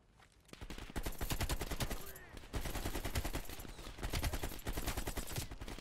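Sustained AK assault rifle fire from the Call of Duty Black Ops Cold War campaign rattles out in long, loud automatic bursts with a short break in the middle, dense and continuous, with no talking over it.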